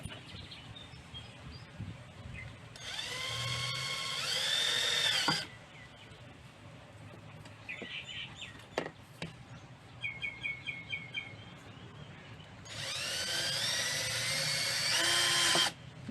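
Two loud bursts of high whining drilling, a few seconds each, as holes are drilled for a shellfish pond's water-circulation system, separated by softer clicks and faint chirping in a quiet outdoor setting.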